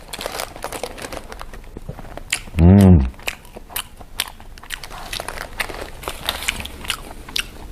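A single loud bite crunches into a large shrimp burger up close, followed by quieter chewing and mouth noises under ongoing casual talk during a hamburger eating session.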